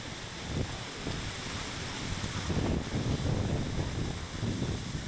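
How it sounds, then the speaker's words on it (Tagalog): Steady roaring wind buffets the microphone, a dense, continuous rush with low gusty rumbles swelling and easing throughout. "Lakas ng hangin, oh."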